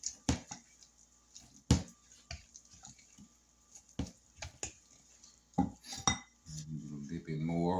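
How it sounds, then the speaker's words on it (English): Scattered clinks and scrapes of a utensil against a bowl while vanilla extract is mixed into pound cake batter, irregular taps near and fairly quiet, with a low murmur of voice near the end. "I'm gonna mix that and try to get the lumps out of it"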